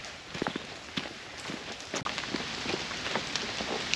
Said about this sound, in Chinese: 好大雨啊！